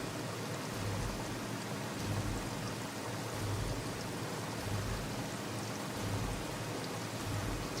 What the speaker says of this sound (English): It's raining. I love the rain.